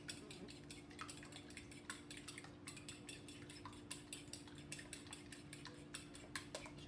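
Eggs beaten swiftly with a fork or whisk in a bowl for meatloaf mixture, a steady run of quick, light clinks and taps against the dish, close and fairly quiet, with a constant low hum underneath.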